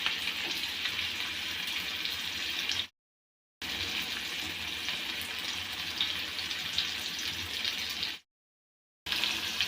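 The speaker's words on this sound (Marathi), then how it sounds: "याला 2 मिनिटं चांगलं शिजवून घ्यायचं।" Onion and tomato frying in a pan make a steady, close hiss that runs continuously, broken by two brief silent gaps.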